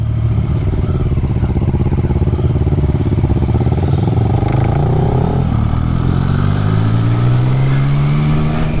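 A Triumph Street Triple motorcycle pulls away in second gear, its engine note steady and strained at first, then rising as it accelerates, loud and close with no talking.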